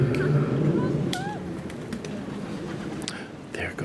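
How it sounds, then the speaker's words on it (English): Pigeons in the Palais Royal courtyard in Paris give a few soft coos and then flap away, heard against steady outdoor background noise with faint voices nearby. "There go the pigeons."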